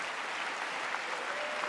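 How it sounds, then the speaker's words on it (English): Dense, steady applause fills a large hall at the State of the Union address, a broad wash of clapping with no gaps. "got Kevin to clap and stand"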